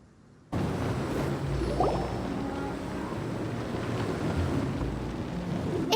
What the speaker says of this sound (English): It's a storm barrier.